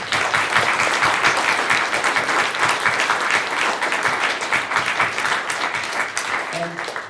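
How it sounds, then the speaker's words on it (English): Sustained audience applause fills a hall at the close of a town and gown debate, dense and steady throughout with no gaps, heard near and loud from start to finish. "Can you please give them a great applause?"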